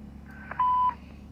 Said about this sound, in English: That's just Lachlan sitting there listening to our traffic and doing a beep